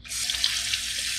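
Cold water from a tap pours steadily over a skinned squirrel carcass as hair is rinsed off, a continuous hissing splash in a sink heard alone at moderate level.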